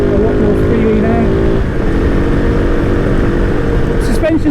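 A KOVE 450 Rally adventure motorcycle engine runs loud and close, revving freely with a steady buzzing drone and a slight shift partway through, a person talking over it.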